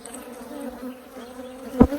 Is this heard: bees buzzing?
yes